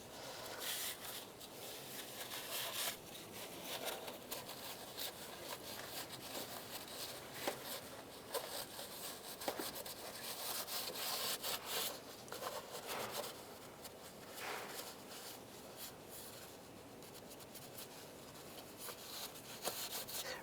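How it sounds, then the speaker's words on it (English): Old RTV sealant is scraped off a 1999-2005 Volkswagen Jetta 1.9 TDI cylinder head with a razor blade or scraper, giving quiet, continuous rasping strokes with irregular scratchy bursts and no talking. "if there's any RTV on here, you want to scrape that up the best you can. You use a razor blade or a scraper"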